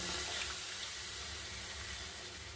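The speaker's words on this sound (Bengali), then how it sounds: "এবার দেখুন, দুধটা আমি ঢেলে দিচ্ছি।" Milk poured into a pan for mango sandesh, a continuous broadband liquid rush that is loud at first and eases slightly over a couple of seconds, with no voice over it.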